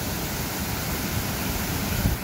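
Roar of the Peguche waterfall in Otavalo, Ecuador: steady broadband rushing water, loud and close, continuous without breaks and with no voices.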